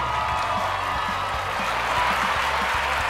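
Loud, sustained crowd applause with cheering and whoops celebrating a livestream follower milestone, a dense continuous roar of clapping that carries throughout.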